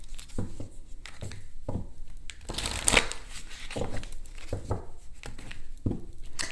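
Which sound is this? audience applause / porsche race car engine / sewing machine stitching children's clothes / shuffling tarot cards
shuffling tarot cards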